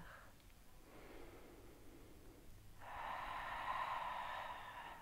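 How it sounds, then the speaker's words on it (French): Slow, deep yoga breathing up close: a long airy inhale through the nose, then a louder, fuller exhale through the mouth, steady and calm with no talking. "prenez le temps de 5 inspires et 5 expires"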